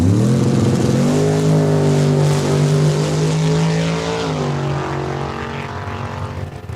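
A drag race car launches down the strip at Saskatchewan International Raceway, its engine a loud sustained roar that holds a steady pitch, shifts once and then slowly fades into the distance.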